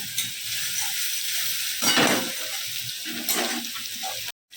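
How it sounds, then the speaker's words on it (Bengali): Onions sizzle and crackle steadily in hot oil in a wok, with a louder burst of frying as they are stirred partway through, close and continuous with no talk. "কোনো ফোড়ন দিলাম না দিয়ে দিলাম পেঁয়াজ"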